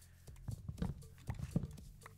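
Footsteps of a horse in a modded Minecraft game, a few soft, low clip-clop thuds and snorting sounds, faint and close, with no talk.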